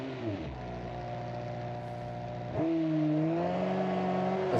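A 1960s muscle car engine in the BeamNG driving game, revving up toward a 4,600 RPM redline, with a rising and falling tone that swells louder midway and holds a steady, throaty drone.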